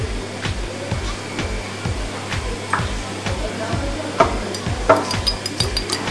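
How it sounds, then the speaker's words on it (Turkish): An egg and a tea glass of milk are beaten together with a whisk in a bowl, giving a steady, rapid rhythmic scraping and slapping that runs the whole time, close and fairly loud. "bir yumurta ve bir çay bardağı sütü iyice çırpacağız"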